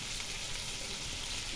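Potatoes frying in oil at an outdoor family picnic, a steady, faint hiss and crackle of sizzling with no voices.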